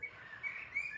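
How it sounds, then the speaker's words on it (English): A bird sings outdoors in a brief, continuous run of high chirping, fairly faint and heard alone for about a second. "oh, listen to that beautiful bird"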